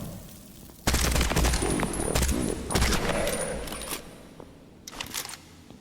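Rapid bursts of video game gunfire crack out in clusters, loud and close, starting abruptly after a quiet opening, with sharp reports, ringing mechanical clicks and a few scattered later shots fading toward the end; no talk.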